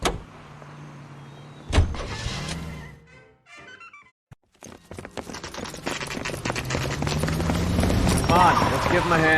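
Car in the 1940s Los Angeles game L.A. Noire: a door thunk and mechanical clunks, then a low engine rumble that builds as the car pulls away and drives on, with voices talking briefly.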